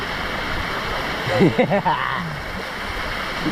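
Flowing stream water in Mysore makes a steady, close broadband rush throughout, with a brief voice rising over it partway through.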